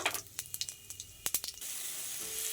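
Whole garam masala, cumin seeds and bay leaves sizzle in hot oil left over from frying paneer, first with a quick run of sharp crackles and pops, then settling into a soft, steady hiss close by.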